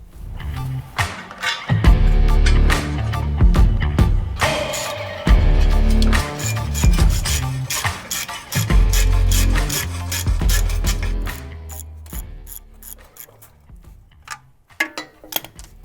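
Someone bolts a part onto a 5.3 LS engine being swapped into a 1952 GMC 3100 truck. Close, quick ratcheting and rasping clicks come in repeated bursts, loud at first and thinning out toward the end.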